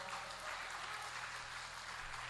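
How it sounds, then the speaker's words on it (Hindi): Audience applause at a mushaira poetry gathering in Gopalganj, a faint, steady wash of many hands clapping heard from a distance, with no voices over it. "तालियां बजा के बताएं कि सही में समझता हूँ"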